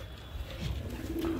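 Pigeons on a rooftop, close soft cooing and low murmuring calls over a brief moment.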